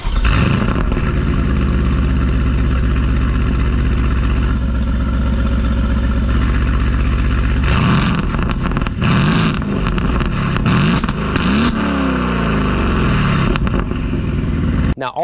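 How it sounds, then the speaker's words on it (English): A tuned 800hp 2020 Aston Martin Vantage exhaust drones loud and close under steady throttle, then barks through several sharp revs and gear changes near the end. "the sound of the exhaust of this car,"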